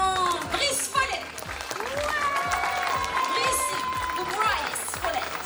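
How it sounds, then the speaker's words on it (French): A crowd at a comics festival claps and cheers for a guest, with steady dense clapping mixed with children's excited voices and chatter throughout. "Sous vos applaudissements, Brice Follett."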